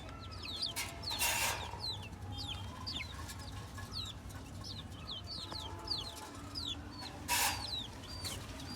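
Desi chickens and chicks in a cage cluck steadily with repeated short calls, and a rooster calls out a couple of times over a low outdoor hum.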